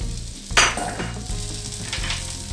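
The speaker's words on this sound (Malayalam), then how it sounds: "ഇതിലേക്ക് ഒരു ചെറിയ സവാള അരിഞ്ഞത് ഇട്ട് കൊടുക്കാം. ഇത് നമുക്കൊന്ന് വഴറ്റിയെടുക്കണേ." Chopped onion sautés in a pan for garlic oats dosa, a steady close sizzle with a sharp burst as it hits the oil, followed by scraping stirs, and no talking.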